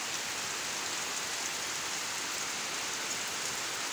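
Steady rain during Typhoon Kristine, falling as an even, dense hiss with no distinct gusts standing out, close and constant throughout without any voices.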